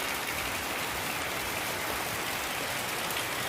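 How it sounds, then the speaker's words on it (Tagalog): Light rain falls steadily in a quiet residential spot at dusk, a dense even hiss of drops on surfaces with no voices over it. "Kunting ulan lang naman."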